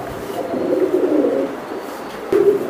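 Pigeons cooing nearby in a loft, a steady low rolling coo that swells, pauses briefly, then resumes, with no talk over it.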